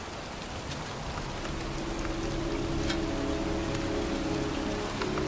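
Steady pouring rain in a cemetery in the video game Heavy Rain, a dense, even hiss of drops falling on surfaces, continuous and fairly loud with no other sounds.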